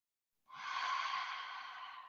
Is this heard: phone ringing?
no